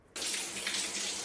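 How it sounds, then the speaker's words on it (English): Water from a campground shower stall, open to the air, bursts on abruptly after a moment of near silence. It then runs as a loud, steady, close rushing spray with no talking. "That's the water flow."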